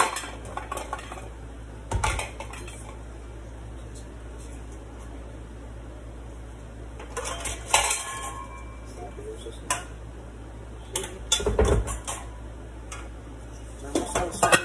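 A large cooking pot is handled in a home kitchen while arroz con pollo is prepared, giving a few sharp metallic clanks and scrapes spaced several seconds apart against a quiet background with soft voices.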